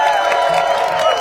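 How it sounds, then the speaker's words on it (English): At an outdoor rally opposing a data center in Box Elder, Utah, a crowd cheers and applauds in a dense, steady roar that fills a brief moment. "so give yourselves a round of applause"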